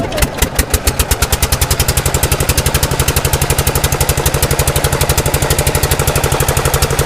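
A trawler boat's engine idles close by near Kuakata sea beach, a loud, fast, even train of heavy thumping beats that carries on alone without any talk.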